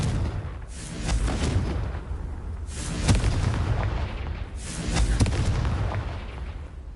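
Confringo fire spell blasts in Hogwarts Legacy, several booming explosive bursts in quick succession over a dense rumbling battle din, loud and close with no voices.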